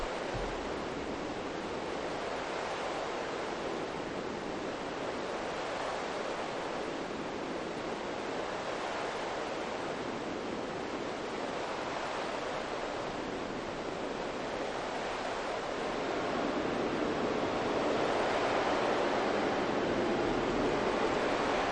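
A VCV Rack virtual modular synth patch runs through a filter, delay and reverb, producing a sustained, surf-like wash of filtered noise that stays steady and swells slightly louder toward the end.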